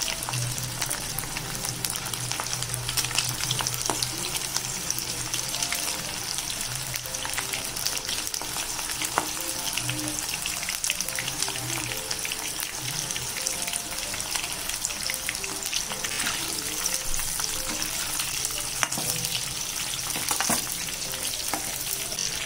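Prawns fry in oil over a high flame, giving a steady, close crackling sizzle with occasional stirring scrapes throughout.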